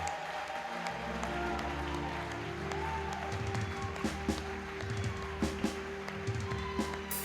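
A church congregation keeps up steady applause during a service, a moderate, continuous clatter of clapping with sharper claps standing out toward the end and a sustained musical tone underneath.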